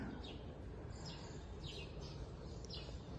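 Faint, sparse bird chirps on Boa Vista, Cape Verde, sound over a constant hiss of background noise, a few short tweets scattered across the moment.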